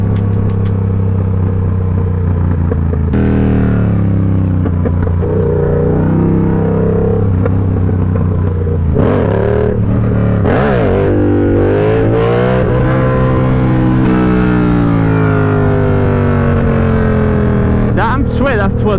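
Motorcycle engine revs and drones steadily during wheelie practice, pitch climbing and dipping as the throttle opens and eases, loud and close throughout, with wind rushing over it.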